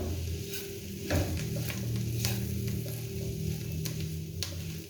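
Mashed potatoes with coriander and spices are stirred steadily in a hot pan for crispy potato balls, giving a continuous close sizzle with soft scraping strokes and no talking.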